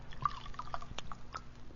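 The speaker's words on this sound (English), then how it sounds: "Now I will pour off the water" Water is poured off from a laboratory flask, giving a brief run of soft drips and liquid trickling that sounds close and fairly quiet.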